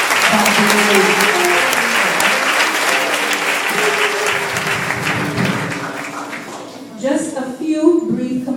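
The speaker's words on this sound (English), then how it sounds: "I'm going to invite us just to give them all a round of applause for the efforts that they made" A church audience claps in sustained, dense applause that fills most of the stretch, then thins out as a voice begins speaking near the end.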